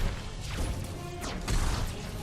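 Engraved names shatter in a Justice League film scene, with loud crashing and smashing bursts and whooshes heard up close, and no talk over them.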